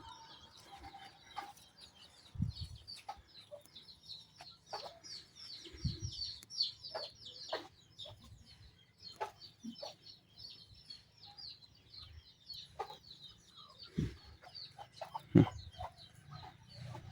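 Chickens cluck on and off at moderate distance, with scattered sharper calls and light rustling in a quiet outdoor setting.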